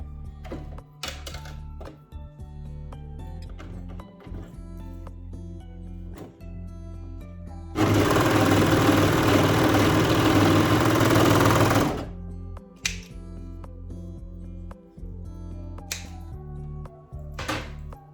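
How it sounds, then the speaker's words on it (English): A sewing machine stitching the waistband of a small fabric dog T-shirt, with one loud, steady four-second run of rapid needle clatter between quieter scattered clicks and handling taps. "So now we'll sew the waist band."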